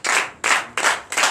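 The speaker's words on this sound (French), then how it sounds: "Donnez l'acclamation" A church congregation claps in four sharp, evenly spaced bursts, loud and close, each burst a dense patter of hands that stops abruptly before the next.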